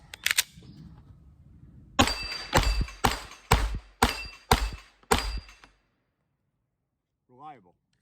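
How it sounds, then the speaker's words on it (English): Two Shadow Systems XR920P pistols loaded with 147- and 125-grain ammunition are fired side by side: six loud, sharp, close shots in a quick, even string, with a voice before and a brief voice afterward. "We're gonna shoot these next to each other side by side, and then we're gonna do it in slow-mo."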